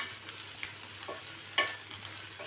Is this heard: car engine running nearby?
no